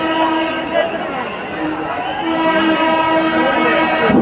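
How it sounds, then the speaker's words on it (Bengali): A train approaches near an outdoor religious sermon gathering, with a sustained horn-like tone sounding over a murmuring crowd and a rising rumble. "সাবধানে থাকবেন, ট্রেন আসতেছে"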